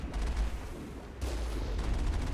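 Cannon firing in the video game Mass Effect, a heavy boom with a dense rumbling, crackling blast that swells again midway and sustains loud and close to the end.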